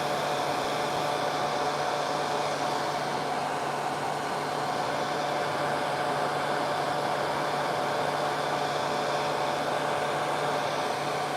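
A hair dryer blowing steadily to dry watercolor paint, a loud continuous whooshing hiss with a constant motor hum, unbroken throughout with no speech.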